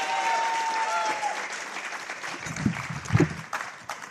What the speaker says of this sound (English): Let's get another round of applause for the whole first round.